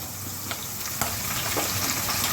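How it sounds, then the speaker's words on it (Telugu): Curry leaves dropped into hot oil for tempering with chana dal, urad dal and cumin give a steady, close crackling sizzle, with a couple of small pops and no talk. "తర్వాత కరివేపాకు వేస్తున్నాను"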